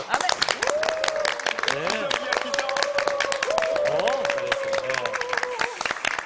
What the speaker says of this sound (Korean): 다 같이 박수로